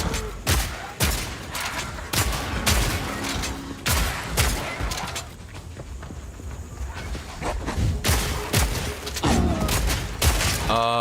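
A shotgun fires in a video game, a dozen or so loud, sharp blasts in irregular bursts, with a brief quieter lull in the middle and faint game sounds between shots.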